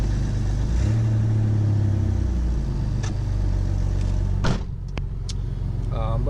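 A cheap used supercharged car's engine runs close by, a steady low drone with a brief rise in pitch and a sharp clunk near the end, while faint voices are heard.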